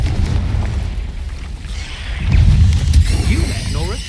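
Confringo fire spell explodes in Hogwarts Legacy, a deep booming burst with low rumble followed by crackling magical whooshes and rising tonal effects, loud and close.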